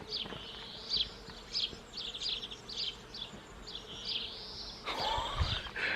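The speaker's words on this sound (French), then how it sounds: "Oh, j'ai une quantité d'abeilles là-dedans. Oh, putain, c'est blindé d'abeilles." A dense swarm of bees or wasps drones steadily nearby, with several insects passing close by in pulsing waves; a louder burst of motion comes near the end.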